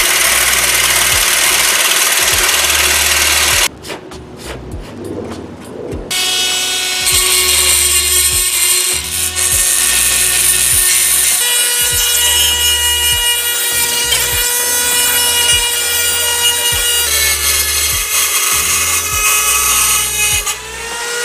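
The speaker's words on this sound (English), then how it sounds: "it's gonna be really wobbly with the Sawzall" A Sawzall reciprocating saw cuts into the intake airbox of a 2017 Subaru Forester XT with a loud, buzzing, rattling drone that goes on for about twenty seconds. The tone shifts as the cut goes on and there is one short break near the start.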